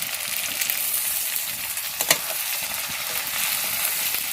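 Spices fry in a hot pan with a loud, continuous sizzle and crackle that holds steady throughout, close up and without speech.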